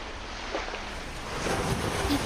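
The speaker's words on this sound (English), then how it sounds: "Waves, you want to play hide and seek?" Ocean waves wash onto a beach in a steady, broad rush of surf with wind noise, swelling slightly louder toward the end, with no one speaking.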